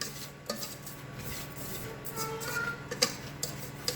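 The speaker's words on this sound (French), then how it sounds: "je mets toujours l'huile d'olive avant et puis je mélange bien" A spoon scrapes and clinks against a pot while barley grains are stirred with olive oil, giving soft gritty rubbing broken by a few sharp metallic knocks.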